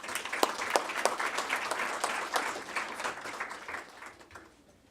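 An audience in a lecture room breaks into steady applause welcoming a professor, many hands clapping densely at moderate level before tapering off toward the end.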